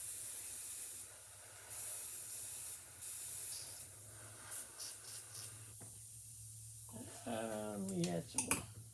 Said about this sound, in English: now I'm just going to spray my wood.